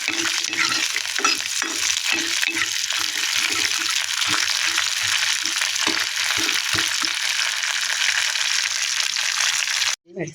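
Continuous close sizzling of frying in ghee with rhythmic stirring clicks, ending abruptly.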